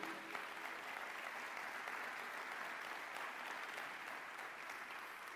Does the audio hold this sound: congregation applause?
yes